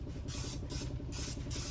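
Cooking spray hisses onto a glass baking dish in four steady bursts of about a third of a second each, close and fairly loud, with a low rumbling background underneath.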